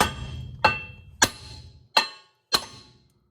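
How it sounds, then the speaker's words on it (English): Four sharp metallic taps of a hammer striking a GMC Savana 3500 wheel hub to unseat it from the rotor, evenly spaced about half a second to a second apart, each ringing briefly before fading. "give the hub a little tap with a hammer"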